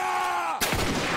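A rifle volley fired on command in a Zulu wars game cracks out as one loud, sharp blast midway through, following a held tone and trailing off in a short decaying rumble.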